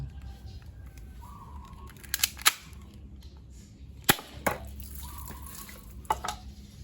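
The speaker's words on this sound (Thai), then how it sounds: "โอเคเดี๋ยวมาทดสอบยิงกระป๋องกันดูเลยนะครับ ว่าจะทะลุไหม" A silver 1911 pistol with wood-grain grips is test-fired at a can: a few sharp, loud shots, two close together near the start, then another pair, ringing out over steady background noise.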